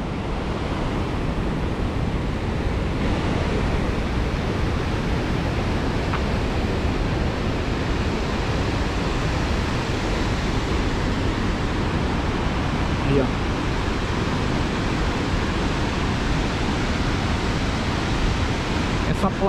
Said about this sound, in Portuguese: Tem água caindo pra todo lado, choveu muito esses dias.